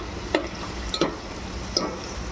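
Garlic frying in hot oil for a Maharashtrian dal dhokli tadka, with a steady low sizzle and a few sharp stirring clinks close by, no talking.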